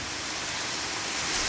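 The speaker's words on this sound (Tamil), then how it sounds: "மாவட்டத்தின் பெரும்பாலான பகுதிகளில் கனமழை வெளுத்து வாங்கியது." Heavy rain pours down across districts around Vaniyambadi, Natrampalli, Alangayam and Ambur in Tamil Nadu, a steady dense hiss of falling water that holds even and unbroken for a moment with no voices.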